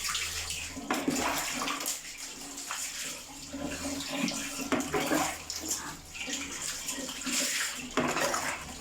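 Warm water poured repeatedly over a newborn baby's body during a bath, continuous splashing and trickling in uneven surges with brief pauses, close and fairly loud, with no talking.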